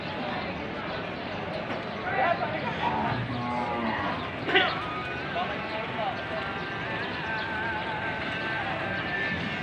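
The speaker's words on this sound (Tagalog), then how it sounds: "Dami kalabaw" Water buffalo lowing rises from a herd amid steady outdoor noise, with people talking nearby and a few louder calls standing out.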